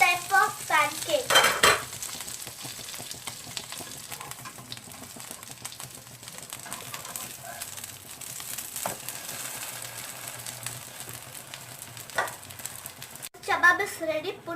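Chebab, a UAE-style pancake, cooks in a pan with a low steady sizzle, punctuated by a few utensil scrapes and clinks as it is flipped, with brief muffled sounds of people nearby.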